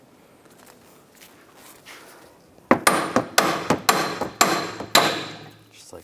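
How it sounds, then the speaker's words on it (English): Hammer blows on the threaded end of a 2003-2008 Subaru Forester inner tie rod, about seven sharp metallic strikes in a fairly even rhythm, close and loud after a quiet start. "You can just hammer on the end of these threads,"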